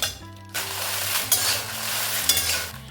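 Byadgi red chillies dry-roasting in a pan, rustling and scraping as they are stirred, with a few sharper knocks over a steady tonal background hum, close and moderately loud.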